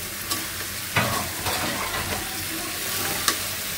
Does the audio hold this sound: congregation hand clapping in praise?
no